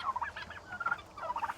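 A turkey on a farm lets out rapid, warbling gobbles in two close bursts with a short pause between, heard fairly near and alone.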